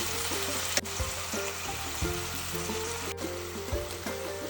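Cooked mutton is added to a pot of Kerala-style mutton stew: wet splashing and soft liquid pouring with a few light knocks against the pot, close and fairly quiet, no talking.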